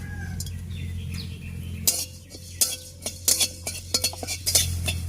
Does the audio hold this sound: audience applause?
no